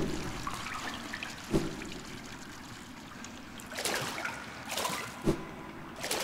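A character in the video game Hollow Knight lands in water, with a soft, continuous watery trickle and ambience and a couple of brief thumping splashes. The sound stays fairly quiet throughout.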